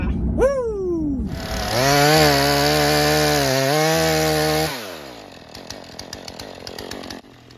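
A Husqvarna 440 chainsaw revs up and cuts through firewood trees, a loud close engine whine that holds under load for a few seconds, then winds down to a sputtering idle.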